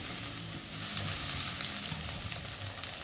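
A paste of garlic, ginger, cumin and onion sizzles in hot oil with browned potatoes, a steady close frying hiss with occasional stirring scrapes and pops, no voices.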